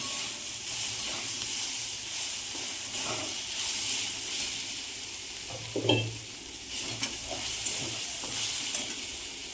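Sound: sautéing vada potato filling in a little oil

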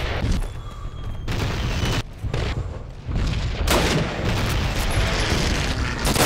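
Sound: artillery barrage explosions in Call of Duty United Offensive video game

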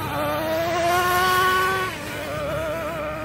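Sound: nitro engine of a green Traxxas Revo RC truck racing

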